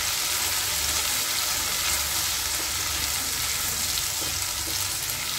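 Green pea paste frying in a pan, giving a loud, continuous dense sizzle that holds evenly from start to finish with no voices.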